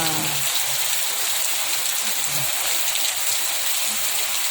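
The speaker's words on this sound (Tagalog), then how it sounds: "Ulan na." Steady heavy afternoon rain pours down, a dense continuous hiss of drops on surfaces with occasional low knocks beneath it.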